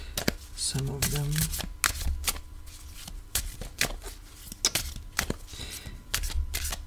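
Playing cards are riffled and shuffled by hand at close range, with repeated crisp flapping bursts and brief pauses between them, and a voice heard faintly in places.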